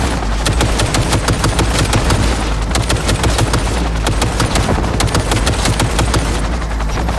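Sustained automatic gunfire from a deadly weapon inside a skyscraper in Cyberpunk 2077, rapid sharp shots rattling off in an almost unbroken stream under a constant low boom, loud and close throughout.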